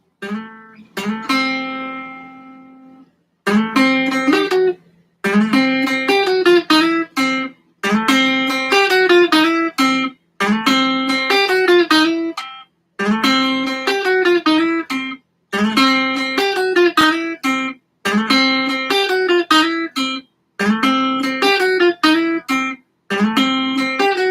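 Electric guitar repeats a short exercise many times over, each pass a quick run of bright, clean, ringing notes followed by a brief gap, loud and alone.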